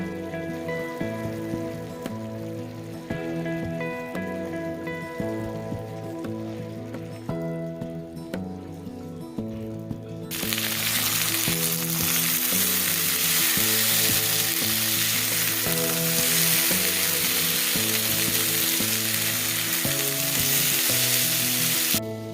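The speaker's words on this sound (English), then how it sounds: "Potatoes are now in the pan with some oil." Potatoes seasoned with seasoned salt, pepper and garlic powder fry in oil in a pan, giving a steady close sizzle over a low tonal backdrop that swells suddenly louder and fuller about halfway through.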